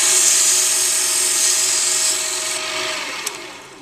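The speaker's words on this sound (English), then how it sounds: "There's the wood lathe" A 7x10 mini metal lathe used as a wood lathe turns a piece of wood, giving a loud, close, steady high whine and rasping friction hiss that slowly fades, with a small tap near the end.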